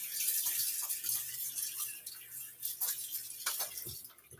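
Faucet water runs and splashes as a shaving razor is rinsed under it, a soft close-up hiss with small bursts of splashing, quiet and brief.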